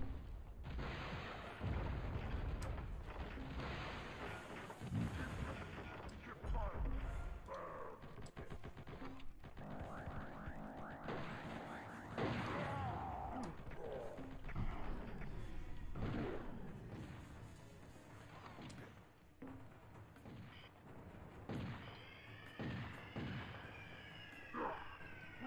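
Gunfire in the shooter game Turok: Evolution, rapid booming shots and explosions that keep up a dense barrage throughout, with some ringing metallic tones mixed in.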